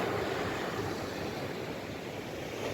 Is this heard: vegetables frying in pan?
no